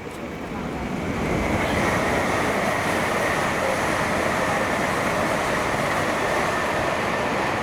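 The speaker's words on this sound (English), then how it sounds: "Oh wait, there's a train." A train passes on the East Coast Main Line at Welwyn Garden City, a steady broadband rushing roar that swells within the first second and holds loud and continuous throughout.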